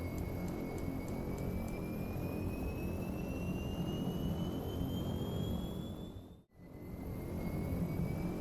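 A Beech 1900D turboprop engine spools up during start in X-Plane 11, a steady loud whine climbing gradually in pitch over a continuous rushing roar, briefly dipping to near silence before resuming.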